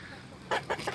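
Three quick bursts of chicken clucking follow a quiet moment, close by and fairly loud, each burst short and squawky, from startled chickens gathered in front of a doghouse.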